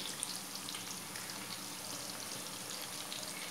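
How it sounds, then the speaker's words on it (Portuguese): Panko-breaded chicken fries in hot oil with a steady, dense crackling sizzle that stays even throughout, moderately quiet and with no voices. "agora é só colocando assim e deixar fritar"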